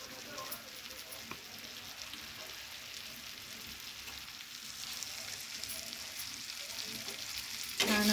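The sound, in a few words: soybean chunks being stirred and fried in masala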